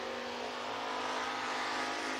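A race car on a timed lap at Batesville Motor Speedway in Arkansas gives a steady, sustained engine roar that holds at an even level throughout, with no voices.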